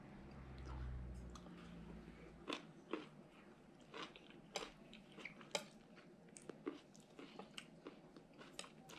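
Crunchy bites and wet chewing of salmon papaya salad (som tam), a series of sharp close crunches spaced irregularly over a low background hum, with no talking.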